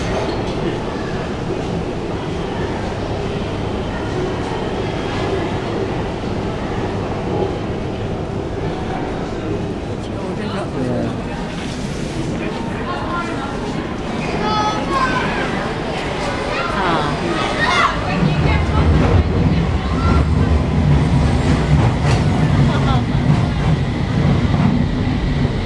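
A London Underground train arrives at Westminster station: a steady platform rumble swells into a louder, heavier roar near the end, with station announcements and voices heard throughout.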